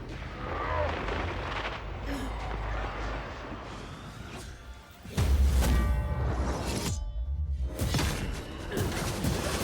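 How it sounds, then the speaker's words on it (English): Bombs exploding nearby in the video game Banishers: Ghosts of New Eden, several loud booming blasts with crackling debris that swell and fade across a dense, noisy battle scene. "Who's throwing the bombs?"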